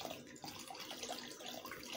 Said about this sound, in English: So I dilute my coconut milk with warm water.